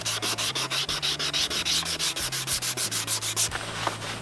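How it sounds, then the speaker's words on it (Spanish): Wet sanding of body filler on a car bumper with 600-grit sandpaper, loud rhythmic back-and-forth strokes about four per second, close up, ending with a brief lighter rub. "vamos a utilizar también una lija de... No vimos en el video qué tipo de lija usaba, pero utilizaba lija con agua"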